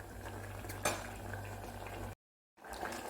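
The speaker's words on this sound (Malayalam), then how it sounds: "ഇതൊന്ന് തിളക്കട്ടെ." Coconut vegetable kurma bubbles in a pot, a steady close simmering hiss with a single utensil clink. It cuts out briefly near the end, then resumes.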